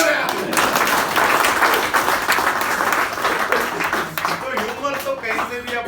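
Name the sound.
audience applause at a comedy show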